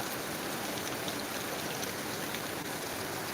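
Heavy rain pours down in Tumakuru, a dense, loud, continuous roar of drops striking surfaces close by, with no letup.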